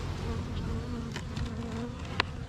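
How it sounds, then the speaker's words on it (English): Steady, close buzzing of many bees inside a hive, a continuous droning hum with a few louder passes near the end. "There's bees in there."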